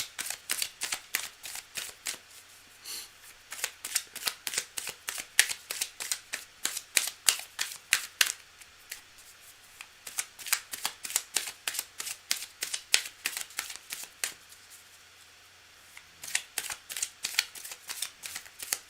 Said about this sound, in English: Cards are very nicely shuffled now.